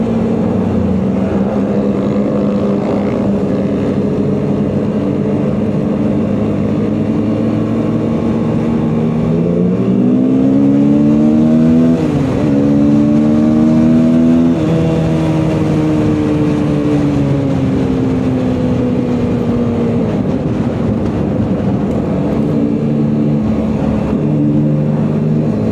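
Motorcycle engines on a group ride through Devon, loud and steady throughout, with rising and falling engine pitch mid-way as bikes accelerate to overtake, close and continuous with wind rush.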